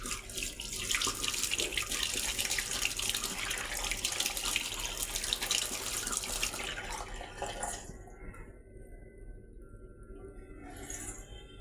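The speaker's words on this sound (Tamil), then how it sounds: "இப்போ நம்ம ஃபேஸ் வாஷ் பண்ணிடலாம்." Water running steadily from a tap into a sink during face washing, a loud continuous splashing stream that cuts off near the end, leaving faint drips.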